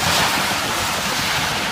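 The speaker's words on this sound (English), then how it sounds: "as the cars go by" Cars driving past on a wet road in the rain, close by: a steady, loud hiss of tires spraying water that fills the whole moment, with no voices.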